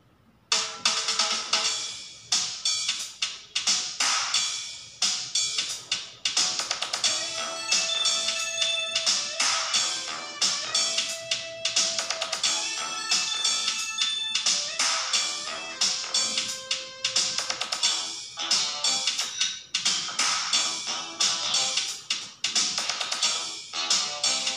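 A simplified arrangement of a song played on an electronic keyboard, bright melodic notes with sustained tones and busy rhythmic accompaniment, continuous and fairly loud throughout.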